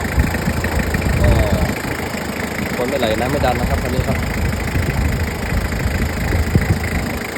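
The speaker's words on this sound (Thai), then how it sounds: "มาฟังเสียงเครื่องยนต์นะครับ เครื่องยนต์เดินนิ่งๆนะครับ" A 2500cc diesel car engine idles steadily in a continuous mid-level rumble with a faint knock, while someone talks over it in Thai.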